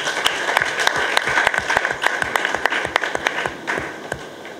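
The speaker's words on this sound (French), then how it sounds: "nous nous permettons quand même de vous applaudir." Audience at a women's rights workshop in the DR Congo breaks into applause, a small crowd clapping irregularly and fairly close, the claps sharp and scattered, tapering off toward the end.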